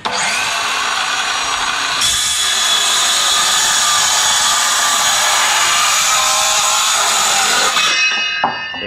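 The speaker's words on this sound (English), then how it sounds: "Our last cut will be right here." A handsaw rasps steadily through wood, making the final cut for a DIY transom mount bracket on a Feelfree Lure 11.5 kayak. The sawing is loud, close and continuous for about eight seconds, then stops abruptly with a brief rattle.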